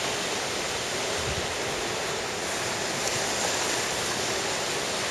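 Rough sea surf churned up where conflicting currents meet under a red-flag warning, a continuous loud broadband roar of breaking water with no pause, close and steady throughout.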